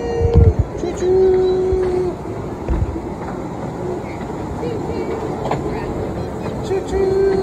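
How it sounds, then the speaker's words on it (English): A train rumbles past at Disney Springs with a steady low roar and faint clatter, and a few high squeals cut through the noise. "Choo choo!"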